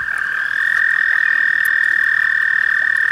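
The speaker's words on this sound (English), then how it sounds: "Froggies, toadies, toads as far as the eye can see." Dense chorus of many toads croaking continuously at once, a steady loud trilling drone from a mass of toads gathered to breed, with no break across the whole stretch.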